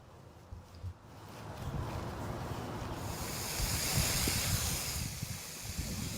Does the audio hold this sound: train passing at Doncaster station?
no